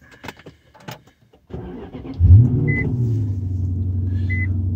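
2008 Infiniti M45 engine starts after a few faint clicks and a pause: the starter cranks briefly, the engine catches with a loud low surge, then settles into a steady, close idle hum.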